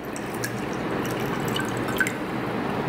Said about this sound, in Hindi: ये ठंडा पानी एकदम, और इसमें डाल दिया